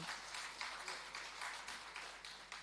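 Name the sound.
audience applause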